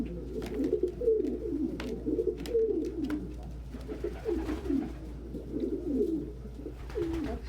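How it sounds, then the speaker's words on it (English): Pigeons or doves coo outdoors in a steady, repeating rhythm, with other birds calling softly throughout against a low background hum. "So many birds."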